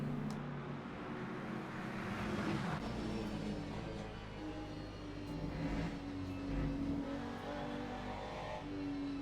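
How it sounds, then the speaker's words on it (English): Onboard engine of a GT3 race car in the Le Mans Ultimate sim at Spa-Francorchamps, a steady revving drone with shifting pitch and gear changes, moderately loud and continuous with no talk. "I don't know if you can hear the car well, or if the sound of the game is a bit too low."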